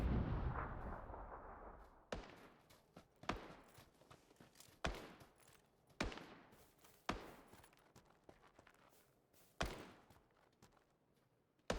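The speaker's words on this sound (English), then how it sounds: "Now I hear some shots down at the shed" Gunfire in the battle royale game PUBG during a late solo match: a string of sharp, echoing shots at irregular intervals, each decaying into a long boomy tail, distant-sounding and unaccompanied.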